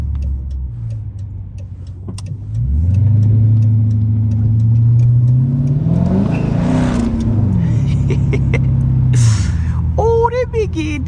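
A straight-piped Dodge Charger R/T engine roars up through a loud rev and holds a heavy, raspy drone close by. It then drops back, with a rapid ticking beneath it and a brief chirping sound near the end.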